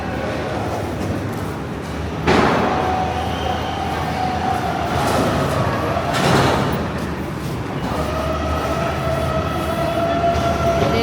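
A train stands at a railway station with a loud, continuous rumbling hum and metallic squealing tones. A brief sliding, clattering burst marks a door or carriage movement, heard close in a busy outdoor platform setting.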